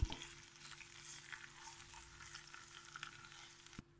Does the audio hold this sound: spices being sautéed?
yes